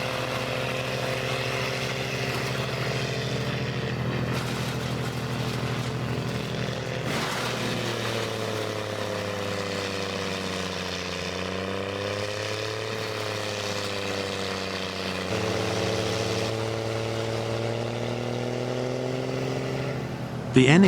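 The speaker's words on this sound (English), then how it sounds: "The NHS 450 wood chipper is renowned for its exceptionally strong intake system" An NHS 450 wood chipper runs behind a Claas tractor in a forest, giving a steady droning engine hum with layered tones that shift in pitch as the load changes, close and continuous.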